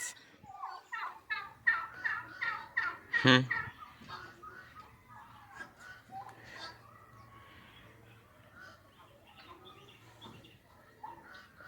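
Female turkeys at a ranch make a rapid burst of gobbling calls, then fainter scattered clucks and chirps, with a low steady hum underneath.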